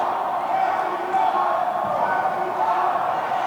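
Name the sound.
Mexico sideline cheering at dodgeball match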